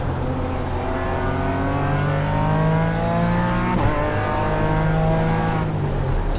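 A BMW race car engine in the iRacing simulator holds a loud, steady high-pitched drone, rising through the revs with one brief gear change midway, while the tone climbs smoothly on either side.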